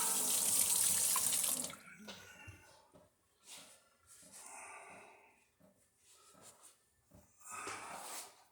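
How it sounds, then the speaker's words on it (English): A hand is rinsed under a running faucet: a close rush of tap water for a second or two, then quieter handling noises, and a second brief gush of water at the end. "Rinse my hand again."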